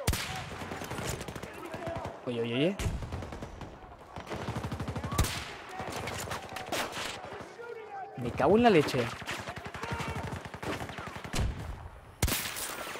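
Sniper rifle gunfire in the video game Battlefield 2042, with sharp shots spread through the clip and someone talking over them.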